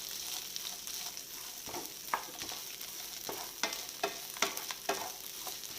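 Coconut pieces frying in oil in a pan for Kerala beef ularthu: a constant sizzle with occasional scraping stirs and soft clinks, close and moderately loud, with no talk.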